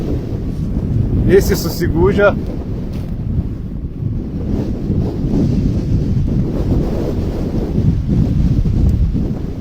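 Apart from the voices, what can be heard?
strong wind blowing on the ice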